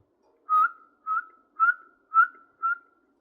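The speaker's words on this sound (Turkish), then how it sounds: "5 kere üst ıslık çalacağız." A person whistles five short, evenly spaced notes at night, each clear and sharp with a brief tail, close and alone in near silence.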